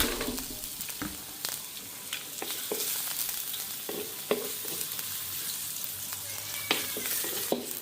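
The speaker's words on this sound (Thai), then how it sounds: "ผัดจนกว่ากระเทียมจะหอมนะคะ" Garlic and ginger stir-fried in a pan for a Chinese-style braised duck dish, a quiet steady sizzle broken by scattered clicks and scrapes of a utensil against the pan.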